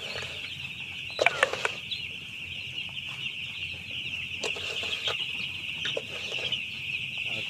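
Broiler chickens on an Indonesian poultry farm cluck in a steady flock chorus over a constant high whir of barn equipment, with a few louder squawks and wing flutters breaking through.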